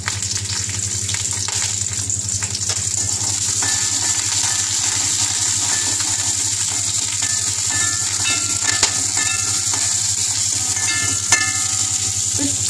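Mustard seeds, urad dal, green chili and grated beetroot frying in a spoon of oil, a steady close sizzle with faint stirring scrapes and light clinks throughout, no talking.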